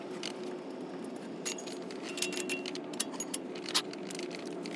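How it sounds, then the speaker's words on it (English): Small metal anti-rattle clips worked loose from a car's brake assembly during a brake cleaning job, giving scattered light metallic clinks and jangles, with a few sharper ticks standing out over a steady low background. "we're going to take these clips out and just clean everything up and grease everything"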